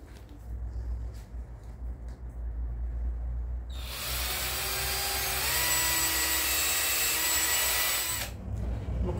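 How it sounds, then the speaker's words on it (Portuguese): A hair dryer switches on and blows steadily with a whining motor hum for about four seconds, then cuts off. Quiet room sound before and after. "Vou secar com o secador de cabelo e já volto."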